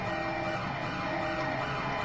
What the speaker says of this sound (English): there's so many sirens going off.